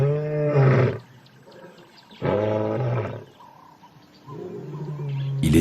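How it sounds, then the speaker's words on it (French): White lions in a large enclosure give three long, deep roaring bouts, each loud and low-pitched with a quiet pause between, the last one still building at the end. "elle les entend rugir pour signaler leur position."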